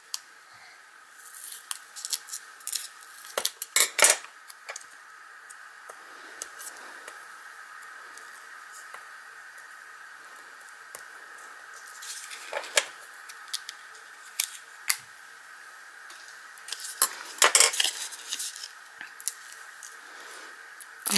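Scissors cutting paper for a handmade card, heard as a few close bursts of crisp snipping separated by quiet pauses, with a faint steady hum underneath.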